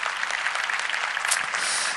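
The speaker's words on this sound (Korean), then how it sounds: "크게 한 번 더 박수해 주세요" A congregation at a Sunday youth church service claps in a brief burst of many hands, dense and fairly close, lasting about two seconds.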